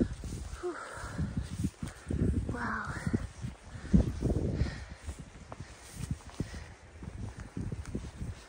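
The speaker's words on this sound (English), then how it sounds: "Birds this morning. At least their songs." Crows caw repeatedly at dawn on the Appalachian Trail near Newfound Gap, fairly close and clear, with rustling movement and footsteps-like sounds underneath.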